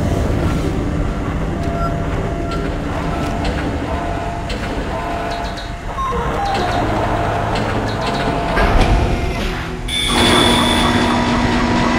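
A tram car in the video game Dead Space rolls along its tracks with a loud, continuous rumbling grind, clanks and metallic screeches, and a sharp shift in tone near the end.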